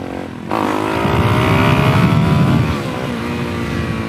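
Suzuki DRZ400SM motorcycle fitted with a knock-off FCR 39 carburetor, loud and close as the engine jumps to a steady high-revving pull, then eases slightly before a final blip.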